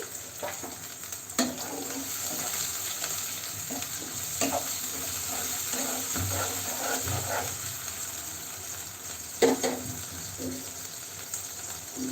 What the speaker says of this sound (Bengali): পেঁয়াজটা হালকা ভাজা হয়ে গেলে আমি এখানে পানি দিয়ে দিচ্ছি